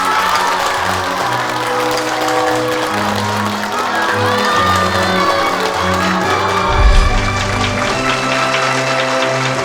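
An audience at a neighbourhood residents' committee meeting claps and cheers steadily, a dense sustained wash of applause with a few shouts, while tonal music or voices run underneath.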